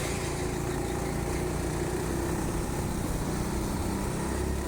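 Go-kart engines droning steadily on the track at TeamSport Sheffield, a continuous close mechanical buzz holding an even level with no talk.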